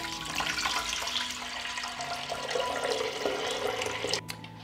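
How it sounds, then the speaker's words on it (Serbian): A litre of cold water pours steadily into a 6-litre metal pressure cooker, a continuous close splashing rush that stops abruptly near the end. "dodajem litar hladne vode"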